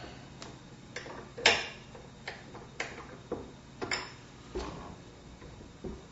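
A wrench snugging down the die tension ring on a Dillon 550B reloading press gives a string of light, sharp metallic ticks and clicks, spaced roughly every half second, close and fairly quiet with no talking.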